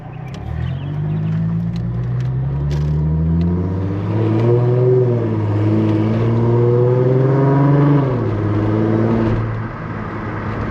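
A Chrysler Crossfire SRT-6 engine revs hard as the driver shifts gears by hand, the loud, close rumble climbing in pitch, dropping at each change, then climbing again before settling lower.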